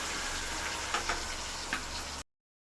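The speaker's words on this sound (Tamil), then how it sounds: "நல்லா வதங்கட்டும்." Onions and curry leaves sautéing in a pan for a Tamil lentil dumpling curry, a steady soft sizzle with a few faint ticks of stirring, cutting off abruptly at the end.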